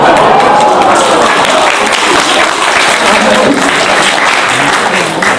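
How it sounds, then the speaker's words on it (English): Audience applause fills a hall after a talk about family heritage and culture, a loud, dense wash of clapping that stays steady for about five seconds with no voices on top. "Why are you applauding?"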